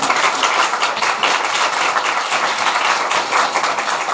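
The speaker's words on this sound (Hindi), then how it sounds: "अपने लिए जोरदार ताली बजाएं।" A church congregation claps loudly and steadily throughout, a dense, continuous wash of many hands with no voices over it.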